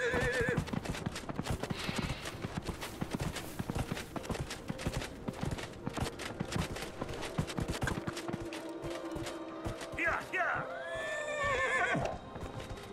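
A horse in the video game Dragon Age Inquisition trots with steady clip-clopping hooves throughout, then lets out a loud, drawn-out neigh near the end over ambient game sound.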